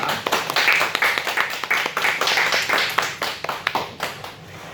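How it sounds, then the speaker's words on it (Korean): A church congregation claps in thanks for a pastor taking over Sunday school, a fairly close, moderately loud round of individual hand claps in a loose, quick rhythm that thins out toward the end. "김용성 목사님 계신데 한번 감사의 박수로 한번 드리도록 하겠습니다"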